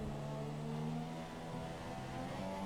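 F1 2017 Formula 1 car at the Hungarian GP heading into the pit lane, a steady high engine note with droning harmonics, faint and held at constant pitch without talk.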